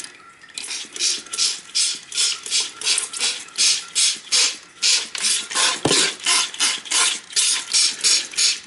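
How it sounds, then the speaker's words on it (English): A hand spray bottle misting down gold flakes recovered from ink cartridges and chips, heard as a quick series of rhythmic hissing squirts, about two per second, close and fairly loud, with one sharp knock partway through. "So I just need to get the spray bottle"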